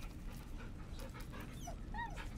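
A puppy in Baldur's Gate 3 being petted gives a few soft whimpers and little high yips over a constant low background hum, fairly faint and close.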